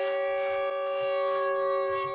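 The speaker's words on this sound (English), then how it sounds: "Normally when a siren goes off and birds fly away, that's not a good sign." Steady, wailing siren sounding in the Siren Head horror video game, a sustained multi-tone drone that holds at an even level throughout, with faint background sounds and no talk.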